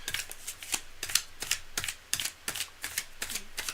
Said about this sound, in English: All right, we are shuffled up and ready to go.